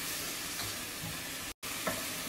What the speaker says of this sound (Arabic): راح برضو أضيف فصين ثوم مع زنجبيل وأحمسهم شوي